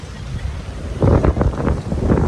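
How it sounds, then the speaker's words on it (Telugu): Gusty sea wind buffets the microphone over rolling surf on Candolim beach in North Goa during the rainy season, growing louder and more blustery halfway through. "ఫైనల్లీ పాండిలం బీచ్ అండి. నార్త్ గోవాలో"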